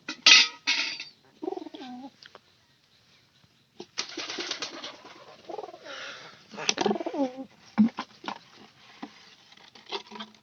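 A sick pet pigeon coos in soft repeated bursts close by, with wing flaps and light patter in between and short quiet gaps.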